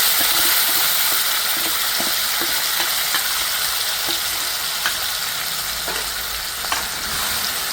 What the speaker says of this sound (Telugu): చూడండి మంచిగా ఫ్రై అయింది